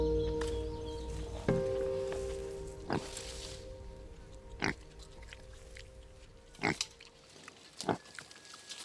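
Feral pigs, invasive animals on the Galápagos Islands, give a series of sharp grunts and oinks spaced irregularly over a low steady drone, fairly close and moderately loud.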